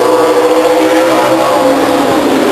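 Race cars at the 1999 Stockton 99 Speedway run single file down the backstretch, a steady loud engine roar held for the whole stretch with no pause.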